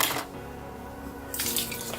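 Tap water runs into a sink in a bathroom makeup routine, a loud broadband gush that dips briefly then surges back strongly, with no talking.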